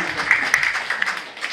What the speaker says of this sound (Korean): 예, 박수 안 쳐요?